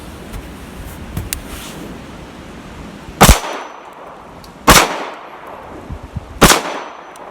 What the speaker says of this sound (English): I'm hitting target much better, like 3 shots, 3 hits.